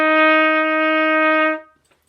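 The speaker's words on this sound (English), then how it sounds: "that will sound like this on a trumpet or a cornet" A single sustained F on a trumpet or cornet, held steady and clear for about a second and a half before cutting off, alone with no talk.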